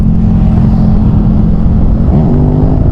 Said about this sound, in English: It looks like these guys behind me are racing, so I might just let them overtake me if they want.